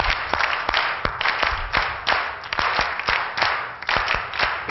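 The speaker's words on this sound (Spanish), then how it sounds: "Improvisación de palma." A group claps palmas in an improvised rhythmic pattern, sharp hand claps landing in a steady, syncopated pulse at close range with no instruments playing.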